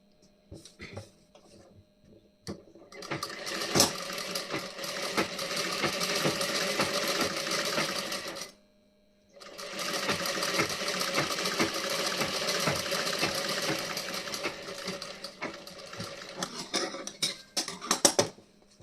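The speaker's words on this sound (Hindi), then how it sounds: "उसके बाद इस पर फिर से स्टिचिंग करेंगे इस वाले साइड।" A sewing machine stitches a blouse neck design in two long, steady rattling runs separated by a brief pause, with scattered clicks and handling noises at the start and end.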